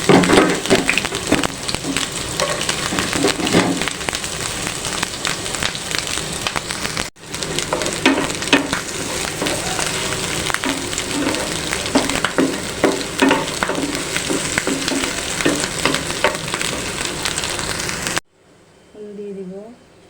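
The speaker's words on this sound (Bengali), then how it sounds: "এখন দিয়ে দিব পেঁয়াজ রসুন ও কাঁচা লঙ্কা সবগুলি আমি ভালো করে ভেজে নিই" Onion, garlic and green chili frying in mustard oil in a pan (kadai), a dense steady sizzle with stirring scrapes that runs unbroken and loud for most of the span, then drops to near silence near the end.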